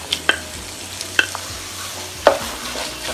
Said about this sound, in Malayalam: കൂന്തള് കഴുകിയത് നമുക്ക് ഇതിലേക്ക് ഇട്ട് കൊടുക്കാം